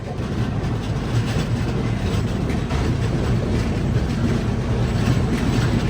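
The Grand Trunk Express pulls out of platform 1 at Agra station, a loud steady rumble of wheels and carriages with continuous broadband roar, heard from inside the moving train.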